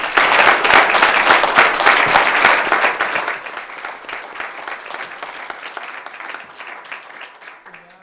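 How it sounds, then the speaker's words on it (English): An audience at a school board meeting gives students a round of applause, loud and dense at first, then thinning into scattered claps as it trails off. "How about a round of applause for all of you?"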